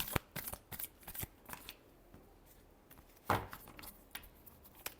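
Tarot cards shuffled close by in a quiet room, a run of crisp riffling bursts and soft flicks with a louder riffle near the middle, nobody talking.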